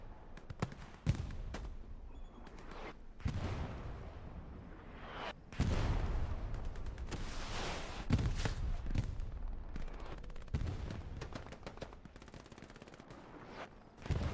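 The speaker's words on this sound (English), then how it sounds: "That is an EXO bombing run, folks." An EXO bombing run in the night Kursk match of Hell Let Loose erupts in heavy booming explosions, loud and close, mixed with bursts of machine-gun fire and rolling rumble across the whole stretch.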